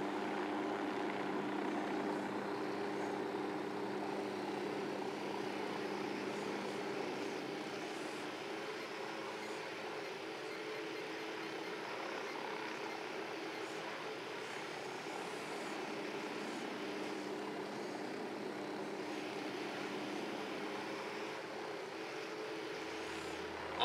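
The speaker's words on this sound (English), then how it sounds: "Deploying drone." A surveillance drone in the video game Ghost Recon Wildlands hovers with a steady, droning propeller whir that holds at an even level for over twenty seconds, without any speech.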